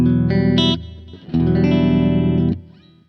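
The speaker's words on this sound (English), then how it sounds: "that's not a great sounding reverb patch" Sustained distorted guitar chords through a Kemper Profiler reverb patch, washed in reverb, two held notes with a short gap between them, fading into a lingering tail.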